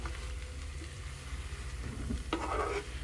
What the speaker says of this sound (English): when you stir it, it'll sound almost like a Rice Krispie treat or something